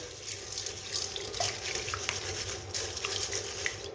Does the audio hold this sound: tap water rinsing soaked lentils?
yes